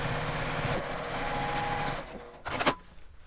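A sewing machine runs steadily for about two seconds while stitching a fabric seam with a turning opening, then stops and is followed by a couple of short mechanical clatters.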